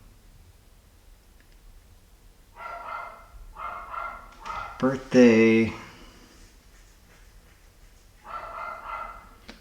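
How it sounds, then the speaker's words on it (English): Several dogs barking in a household, in bursts of repeated barks alongside talking, with one louder, higher yelp or whine in the middle. "My dogs are back barking."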